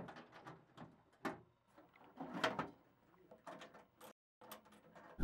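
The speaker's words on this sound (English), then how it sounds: "Close up the door, securing it with the key or side bolts." Door of a solar lighting system's battery enclosure being closed and secured, a run of close mechanical clunks, slides and clicks of metal hardware with short pauses between them, no talking.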